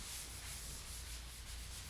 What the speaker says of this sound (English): So you gotta continue the process, sand it.